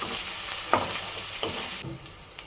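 Whole spices and bay leaves sizzle steadily in hot oil for tomato rice while a utensil scrapes and stirs through the pan in a few short strokes.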